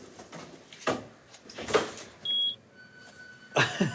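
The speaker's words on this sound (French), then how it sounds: "Alarme." A single electronic alarm beep sounds during a stay in Cyprus, clear and close, between sliding door clunks and handling noises.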